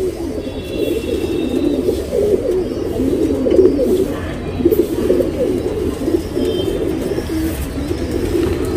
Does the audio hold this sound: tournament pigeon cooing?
yes